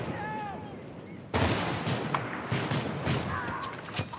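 Gunfire in Bad Company 2: a loud burst of rapid shots cracks in abruptly, followed by repeated bangs and scattered distant reports over a continuous battlefield rumble.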